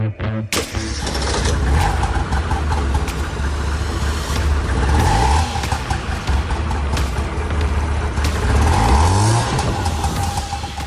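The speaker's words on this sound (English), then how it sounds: "that car sound was sent in by Artem" A car engine revs hard and loud, rising and falling in pitch through repeated surges, close and continuous with no talking.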